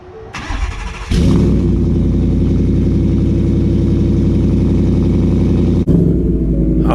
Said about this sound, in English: we're going to get a little cold start on this thing